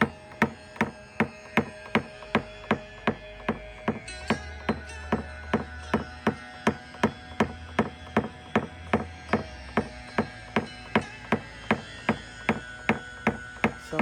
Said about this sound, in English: Some of the finer taps that need to be made.